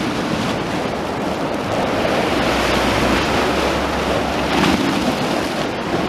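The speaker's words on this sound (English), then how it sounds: "Just get to hear the sounds of the sea," Sea waves wash in at the water's edge near a pier and driftwood, a continuous rushing surf with gentle swells and some wind buffeting, fairly loud and close, no voices.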